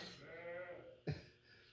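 A single sheep's bleat, brief and close, rises out of quiet background murmur in the middle of a short pause. A few farm animals are heard, and one of them calls out loudly once.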